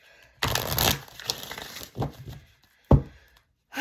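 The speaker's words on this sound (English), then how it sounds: "Just want to do a couple shuffles real quick." Tarot cards being shuffled in quick bursts: a long crisp riffle, a few shorter flutters, then a sharp tap of the deck, close and fairly loud with quiet gaps between and no voices.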